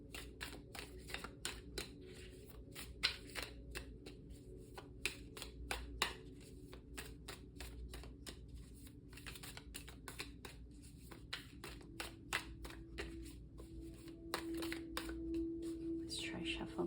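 A deck of cards being shuffled close by, quick fluttering riffles and soft ticking flicks repeating throughout, quiet over a faint steady hum.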